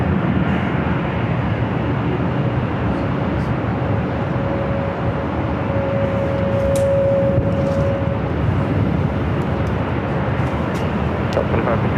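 An airliner at LAX on runway 24 left gives a steady, broad jet roar at middle distance, holding level throughout with a faint whine, while someone talks over it.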